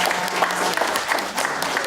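A crowd at a Dharma Wanita and TVRI staff gathering applauds steadily through the whole moment, with a voice speaking over the clapping.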